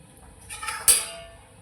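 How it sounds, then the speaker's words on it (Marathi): A metal lid set down on a pan while moong dosa cooks, a single soft clink against quiet kitchen background. "झाकण ठेवते."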